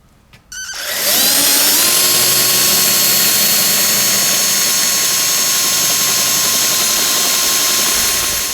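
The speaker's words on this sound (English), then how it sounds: "Got our holes drilled." Steady, loud power drill boring holes into cylinder heads on a 1968 Winnebago engine, running continuously for several seconds after a brief start-up, with no talking.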